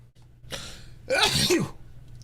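A single close, loud sneeze: a short breathy intake followed by an explosive burst.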